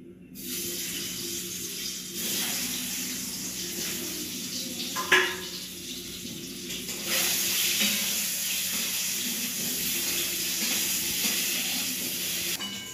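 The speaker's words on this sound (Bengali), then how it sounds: "কড়াই তেল দিয়ে দিয়েছি আমি, গরমও হয়ে গেছে। এবার ডিমগুলো দিয়ে দিই, ভেজে নিই।" Eggs dropped into hot oil in a wok set up a steady, loud frying hiss that starts after a quiet moment and swells stronger partway through, with a brief sharper crackle in the middle.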